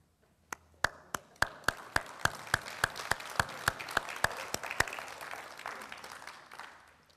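Clapping in a church service honouring a couple married 65 years: a slow, evenly spaced run of about fifteen sharp, distinct claps, fairly quiet and isolated, like a single person or small group, ending after about five seconds.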